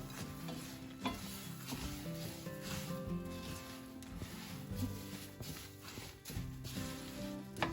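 Sesame seeds and peanuts are stirred in a pan with sticky syrup for sesame laddu, a continuous soft sizzle with scraping and light clinks from the stirring, close and steady, with no voice over it.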